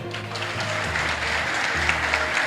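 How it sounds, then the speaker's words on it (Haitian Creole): Audience applause for Issa Pavel, the Dominican Republic's minister of economy, at a public speech: a dense, steady wash of clapping from a crowd that stays even in level for a couple of seconds. "battons bravo pour Issa Pavel"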